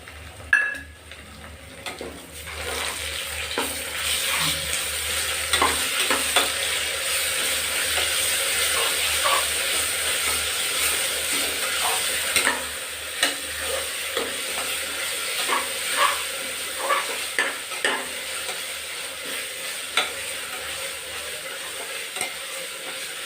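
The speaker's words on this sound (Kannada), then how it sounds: "ಈಗ ನಾನು ಕೊತ್ತಂಬರಿ ಪೇಸ್ಟ್ ಹಾಕ್ತಾಯಿದ್ದೀನಿ" Coriander paste with ginger, garlic and fenugreek leaves fries for methi pulao, a steady sizzle running throughout, broken by repeated scraping taps of a spoon stirring in the pan.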